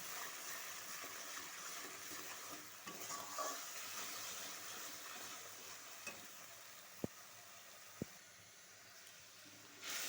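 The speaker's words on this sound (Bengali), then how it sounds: "দিয়ে দেবো হলুদ। এবার ভালোভাবে কষাতে থাকবো।" Spices with salt and turmeric stir-fried in a pan for a pointed gourd curry: a continuous soft sizzle with scraping stirs and two sharp clicks from utensils against the pan.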